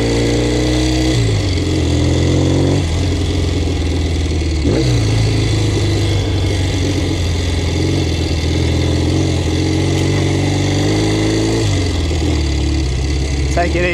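A motorbike engine ridden off-road on semi-off-road tyres around a large dirt course, its steady mid-pitched drone rising and falling with gear changes and throttle shifts, loud and close, with a voice talking over it at times.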